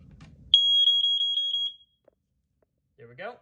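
A BRK 79R smoke alarm gives a single loud, piercing electronic beep lasting about a second, with a brief voice just before it and another after.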